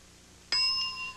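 A game show bell rings once, a bright metallic ding that strikes sharply and then rings out with a long, slowly fading tone over quiet studio ambience.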